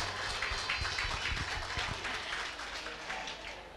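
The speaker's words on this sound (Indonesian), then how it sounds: "Tepuk tangan buat kita semua" An audience at a family clan reunion applauds, producing a steady wash of clapping from many hands that is moderately faint and fades slightly toward the end.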